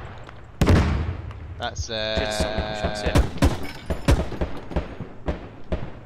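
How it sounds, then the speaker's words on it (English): Anti-tank fire striking an armored vehicle in the military shooter Squad: a sharp, loud blast followed by ringing metallic tones and scattered thuds of further gunfire, with a voice briefly speaking. "we just got anti-tank fired from here"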